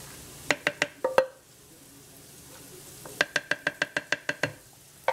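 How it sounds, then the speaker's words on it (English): Dry lentils poured into a pot of cooked sausage and broth, heard as a series of sharp, close taps and rattles in two bursts, the second a quick rhythmic run of about ten hits, with no talking. "Let me go ahead and get my lentils in first."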